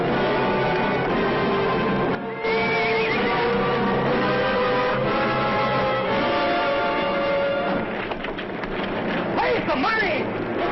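A horse neighs and whinnies in a 1950s western film scene, with loud, wavering neighs over turbulent outdoor noise and shouting voices.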